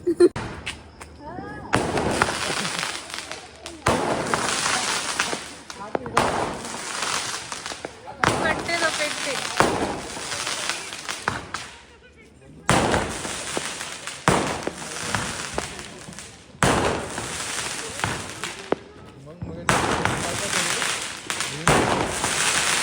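Diwali firecrackers burst in a series of loud, crackling volleys separated by short pauses, with people's voices in between.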